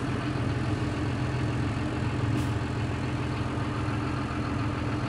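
A John Deere 7430 tractor engine idles steadily and close by, a low, even rumble that holds for about five seconds with no talk over it.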